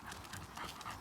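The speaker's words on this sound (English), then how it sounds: "You've had your tin of dog food, you can have another tin when we get to Lee's" A dog on a long walk pants quickly and rhythmically, breathing close and fairly loud in short, even bursts.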